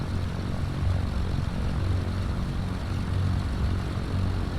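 The twin propeller engines of a Cessna C310R drone steadily in a flight simulator game, flying from Tallahassee to Marco Island. The sound is a continuous, even, low-pitched hum with no talking.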